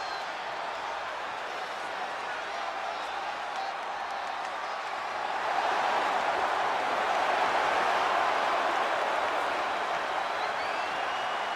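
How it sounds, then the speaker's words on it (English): A WWE 2K25 video game arena crowd, a wash of cheering and applause that swells louder midway and stays strong, with a faint commentator-style voice underneath. "feeding off the electricity of this crowd"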